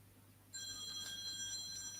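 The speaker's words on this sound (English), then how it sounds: "excuse the phone in the background" A telephone rings in the background, its bell starting abruptly and sustaining as a steady, moderately quiet electronic trill with no talk over it.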